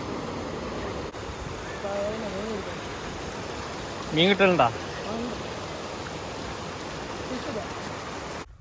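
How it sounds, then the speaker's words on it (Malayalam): Clear stream water running briskly over a small check dam at Gonchiyur in Attappadi, a steady broadband rush heard close, with someone talking over it and a brief burst of louder voice midway. "ഇവിടെ നല്ല തെളിഞ്ഞ വെള്ളം നല്ല അത്യാവശ്യം ഒഴുക്കുണ്ട്"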